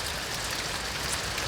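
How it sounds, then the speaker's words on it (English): Extremely heavy rain from Hurricane Dorian pours down outside a sandstone cave, a dense, steady hiss of drops on surfaces with no breaks, loud and close. "It's raining extremely heavy right now."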